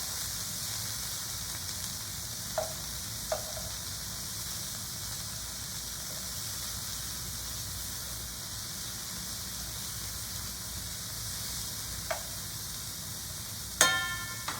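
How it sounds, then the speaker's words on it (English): Frozen vegetables sizzle in a stir-fry pan with a steady, even hiss throughout, broken by a few brief pops and a louder clatter near the end. "Ooh, I love to hear that sizzle."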